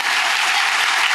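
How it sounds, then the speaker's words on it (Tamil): An audience at a classical dance recital gives a standing ovation to the dancers, with a brief burst of dense, even clapping filling the hall at close range. "தயவு செய்து எல்லாரும் எழுந்திருச்சு நின்று குழந்தைகள் முதற்கொண்டு நமது சேலம் சகோதரிகளை வாழ்த்துவோம்."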